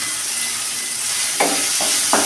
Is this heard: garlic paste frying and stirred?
yes